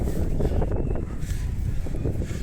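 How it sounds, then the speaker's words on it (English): Strong wind buffets the microphone on an exposed hilltop above a roundabout near Stirling, Scotland, a loud continuous low rumble filling the whole stretch without pause. "it's fucking windy up here, isn't it?"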